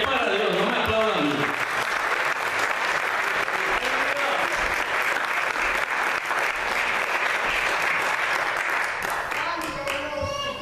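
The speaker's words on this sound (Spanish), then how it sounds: "Apláudalo fuerte, que es para Dios," Loud, sustained applause from a church congregation fills the whole stretch, with voices and shouts mixed into the dense clapping.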